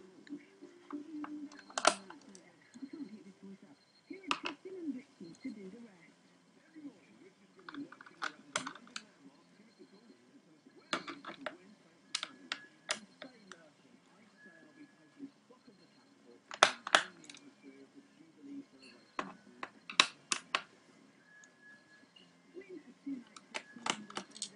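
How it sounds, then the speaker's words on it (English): Screws are taken out of an HP G61 laptop with a small screwdriver, with sparse close metallic clicks and ticks scattered over a quiet background, while someone talks intermittently. "Quite a boring job to unscrew everything."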